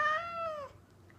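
A rescued cat gives a single clear, drawn-out meow, close and moderately loud, fading into a quiet room.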